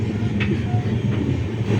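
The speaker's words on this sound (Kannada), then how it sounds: "ನನಗೆ ರೈಲ್ವೇಲಿ ಮಧ್ಯದಲ್ಲಿ ಇರುತ್ತಲ್ಲ ಅಟ್ಯಾಚ್ಮೆಂಟು, ಇದು ಅಲ್ಲಾಡೋವಾಗ ಭಯ ಆಗುತ್ತೆ." A moving passenger train rumbles loudly from inside a carriage, with a steady low roar, rattling of the coupling between coaches and brief metallic squeals over the constant drone.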